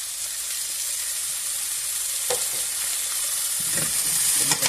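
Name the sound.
stirring sausage, kale and potato soup in pot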